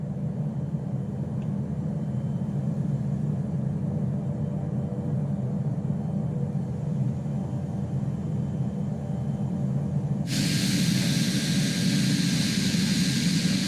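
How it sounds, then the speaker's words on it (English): Pilatus PC-12 turboprop airplane in Microsoft Flight Simulator 2020 beginning to taxi, a steady loud engine drone that swells into a brighter, harsher roar near the end, with no talk. "this is my first time actually trying to move the airplane, so let's see how it goes"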